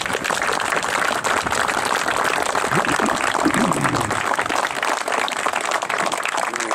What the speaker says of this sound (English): If you could, please join me in a round of applause so we can recognize them.